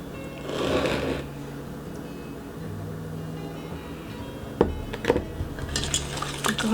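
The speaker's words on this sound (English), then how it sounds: "Go ahead and whisk that around." A whisk stirs a rose hip fruit curd mixture of egg and juice in a pot, giving soft scraping swirls, then sharper metallic clinks and taps against the pot near the end.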